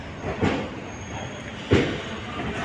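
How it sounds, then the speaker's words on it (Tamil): Train pulling into Mettur railway station on the Salem to Mettur Dam line, a steady rolling rumble with two louder clanks or jolts about a second apart as the carriages come to a halt. "மேட்டூர் ரயில் நிலையம்ங்க அவ்வளோதான் ட்ரெயின் நின்றுச்சு"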